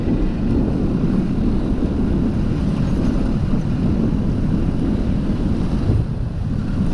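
Steady roaring wind and road noise on a motorcycle ride, picked up by a GoPro Hero 8 microphone: a constant low rumble and buffeting that never lets up, loud and close.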